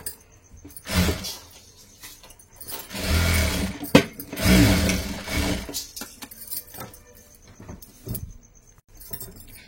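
A sewing machine stitches a hook strip onto a blouse in several close, whirring bursts of a few seconds each. Quieter pauses with handling noises fall between the bursts.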